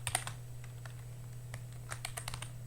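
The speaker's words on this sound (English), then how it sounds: "Now if I like just type print," Keys clatter on a computer keyboard in short bursts and scattered single taps, fairly close and quiet, over a steady low electrical hum.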